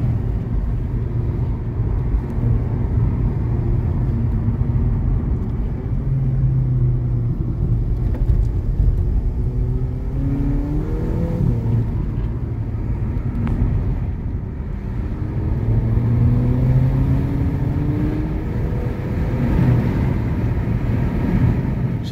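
A steady van engine drone and road rumble fill the cabin while driving, holding constant with slight shifts in pitch, no voices.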